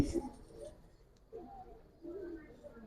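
A Giribaz silver pankhi pigeon coos quietly a couple of times, low, rolling calls separated by short pauses in a fairly quiet room.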